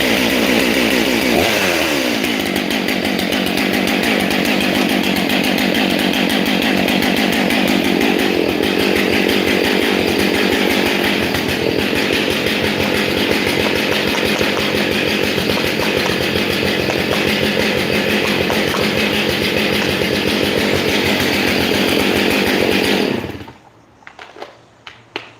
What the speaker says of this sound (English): Mate, I start my saw in the air.